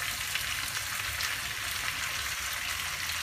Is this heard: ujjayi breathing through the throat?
no